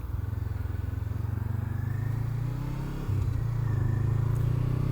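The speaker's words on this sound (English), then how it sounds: "This bike does sound nice. It's not too loud, it's really bassy." A motorcycle fitted with a catted Akrapovic exhaust idles nearby with a deep, bassy, steady rumble. The engine dips briefly near the three-second mark before settling back to a smooth, moderate burble.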